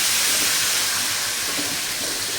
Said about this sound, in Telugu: అల్లం వెల్లుల్లి కొబ్బరి పేస్ట్ని ఇందులో వేసేసుకొని అడుగు అంటకుండా ఇలా కలిపేసుకోవాలి